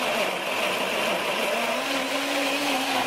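A blender runs continuously with a loud, steady whirring motor hum while making a sauce with olive oil for tequila prawns, no pauses or talking.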